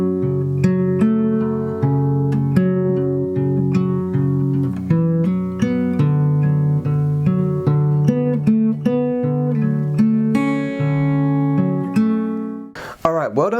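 Finger-style acoustic guitar plays the last line of a song, clear plucked notes and arpeggiated chords ringing alone up close, with a rhythmic pattern that ends in a final strum and a short handling noise.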